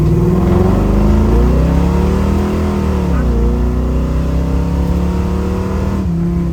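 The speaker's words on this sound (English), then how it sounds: "So I'm gonna downshift this baby down to first again and just have some fun." A 1966 Chevrolet Nova's engine roars loudly after a downshift into first gear, its pitch climbing and dipping through sustained revs, up close, with a brief drop near the end.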